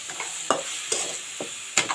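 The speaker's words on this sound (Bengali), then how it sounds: "আমি মশলাটা একটু নাড়াচাড়া করে দেবো।" Spices stirred in a hot pan for a spicy fish and radish curry: four distinct spatula scrapes at a steady rhythm over a constant close sizzle, with no talking.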